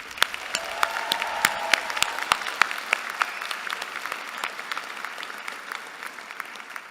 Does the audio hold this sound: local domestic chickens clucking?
no